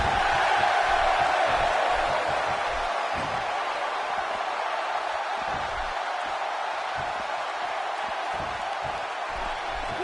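Arena crowd noise from a WWE 2K16 wrestling game, a steady roaring wash of cheering that holds at a loud level throughout, with faint speech underneath.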